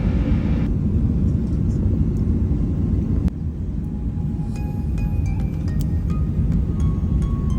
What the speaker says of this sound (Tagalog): So maglaland na po dito yung aeroplano, malapit na sa Korea.